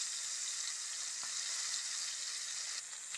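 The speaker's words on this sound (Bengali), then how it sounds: "এইভাবে আমি মাছগুলো সব ভেজে নেব" Pomfret fish sizzling in hot oil, a constant crackling hiss with occasional small pops and a faint clink, heard close at low level and unbroken, without any talking.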